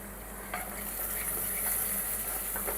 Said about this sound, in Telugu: ఈ ఆనియన్ అయితే మంచిగా బ్రౌన్ కలర్ వచ్చేంత వరకు అయితే ఫ్రై చేసుకోవాలండి